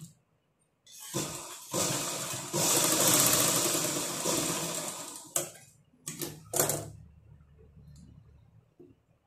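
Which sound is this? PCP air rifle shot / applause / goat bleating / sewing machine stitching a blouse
sewing machine stitching a blouse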